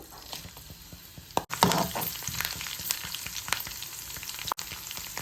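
Spices sizzle and crackle in hot oil for tempering, a steady frying hiss with sharp pops and spatters, close by.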